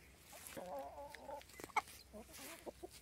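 Roosters and hens cluck and murmur nearby, with a short sharp squawk in the middle and scattered soft clucks after, quiet background otherwise.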